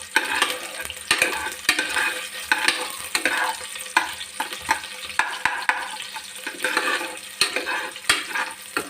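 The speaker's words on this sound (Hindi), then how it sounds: "राई, माश की दाल, चने की दाल और प्याज डालकर अच्छे से हिला लेना चाहिए 2 स्पून से" Mustard seeds, urad and chana dal and onion frying in a pan for masala baingan, stirred with spoons, giving a loud close sizzle with rhythmic scraping strokes and no talking.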